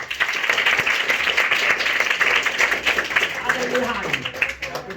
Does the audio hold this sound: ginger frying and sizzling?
no